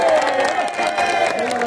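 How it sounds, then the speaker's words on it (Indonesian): A crowd at a tug of war match cheers and applauds in a loud, continuous wash of clapping and voices, with a sustained tonal ring running underneath throughout. "Tepuk tangan untuk Dinas Lingkungan Hidup."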